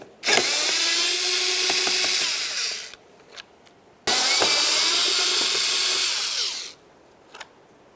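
A power drill spins out 7mm bolts from a 2006-10 Ford Explorer front bumper cover in two loud, close bursts of about three seconds each, separated by a brief pause with small clicks.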